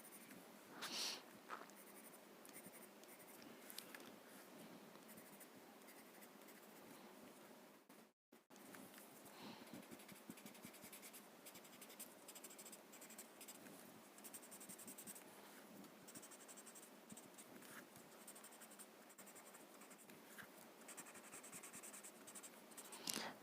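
Graphite pencil shading on paper, a soft, faint, continuous scratchy rasp of strokes with brief pauses, close and quiet throughout.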